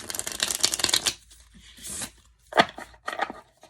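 A Marseille-inspired tarot deck being shuffled: a crisp riffle of cards up close, followed by a few shorter ruffles and taps; no voices.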